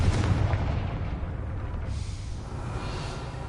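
A Confringo blasting-spell explosion in a Harry Potter video game, a heavy booming blast at the start that rumbles and decays over a few seconds, loud and close.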